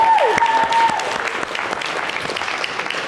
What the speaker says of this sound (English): I love the applause is great.